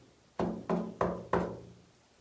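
Knuckles knocking on a cell door in the Jedburgh Castle Jail, four distinct hollow knocks at an even pace, close and fairly loud, against a quiet room.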